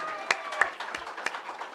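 Scattered, uneven claps from a school board meeting audience, a handful of sharp hand slaps spread out over a couple of seconds, with faint room voices underneath.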